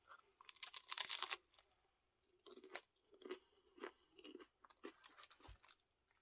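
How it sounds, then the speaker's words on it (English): Loud, crisp crunching from close-up chewing of a Taco Bell Cantina Crispy Melt Taco, arriving in several separate bursts with short pauses between bites. "You hear that crunch though?"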